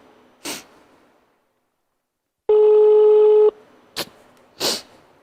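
A single telephone tone, steady and electronic, lasts about a second during a call, set between quiet breaths and short sniffing sounds.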